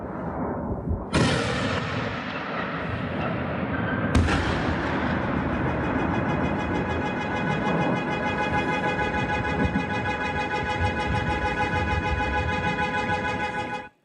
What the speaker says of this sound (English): Here we see the explosion size suggesting over 80 kg of explosives.